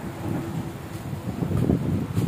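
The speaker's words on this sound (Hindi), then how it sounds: "खूब बहुत तेज़ और बहुत ज़्यादा बारिश हो रही है" Heavy rain pours down along a road near the airport in Medina, a dense, steady roar with swelling rumbles that grow louder toward the end, with no voices.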